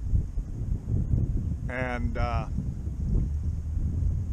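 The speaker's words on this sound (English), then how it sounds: "Okay, it's getting kind of windy." Wind buffets a microphone outdoors, a steady low rumble across the whole stretch, with a brief spoken word in the middle.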